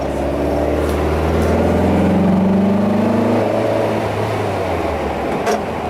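Air-cooled VW 1800 engine in a freshly built car, held at a loud, steady high rev as the throttle pedal slips, the tone rising slightly then easing back over several seconds, close and continuous with no talk.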